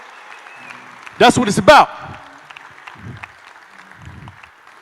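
Loud burst of audience applause and cheering at a motivational tour event, lasting about a second, with someone speaking over the crowd before and after.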